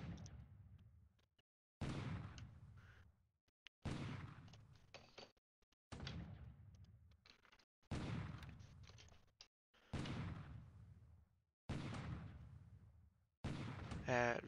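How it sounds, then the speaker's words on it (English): Naval bombardment in the War in the Pacific strategy game lands as a sequence of about eight sharp explosive blasts, each a loud burst decaying quickly and spaced roughly two seconds apart. "Japanese bombardment."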